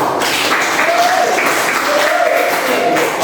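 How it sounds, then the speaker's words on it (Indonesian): A classroom of students claps together in a short, even burst of applause that holds steady for a few seconds, with a faint voice underneath. "Oke, tepuk tangan."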